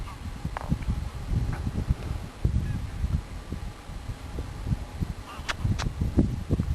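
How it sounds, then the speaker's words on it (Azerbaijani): A flock of geese honks at Sarısu lake, dense overlapping calls continuing throughout at moderate distance, with a voice talking briefly among them. "Gör hara töküldü qazlar."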